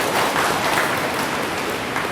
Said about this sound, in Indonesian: tepuk tangan buat sahabat-sahabat sekalian